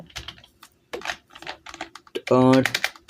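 Keys tapped on a computer keyboard while entering a formula in an Excel spreadsheet, a scatter of quick clicks mixed under a voice speaking, with a brief loud buzz near the end.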